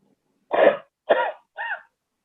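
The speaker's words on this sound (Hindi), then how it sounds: "एक तरह से खांसी, या हम लोग इसे हफिंग कहते हैं" Three forceful huffing coughs in a row, done as a lung breathing exercise, evenly spaced and close, each a sharp breathy burst with silence between.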